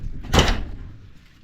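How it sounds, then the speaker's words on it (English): A single firm thud of a 1957 Chevrolet car door being shut, close and loud, followed by a short fading rumble. "Close my door so you don't hear the wind."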